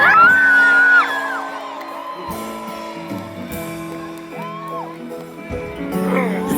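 Live audience at a French stage show whooping, yelling and cheering loudly as a band member is introduced, a dense crowd roar that holds steady and swells again at the end, with music and voices mixed in.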